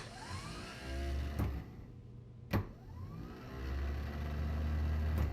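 A starter motor on a John Deere 420 tractor whirs in two sustained spinning bursts with a short quiet gap between them, cranking loudly up close, with a couple of sharp clicks from the solenoid.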